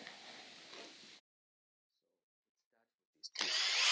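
A power drill backs screws out of a prefabricated bathroom sauna panel, whirring steadily for about a second, pausing through near silence with faint clicks, then starting again with a loud whine.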